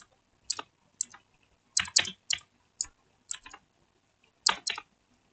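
Someone types on a computer keyboard in short bursts of crisp, close key clicks separated by brief pauses, with no talking.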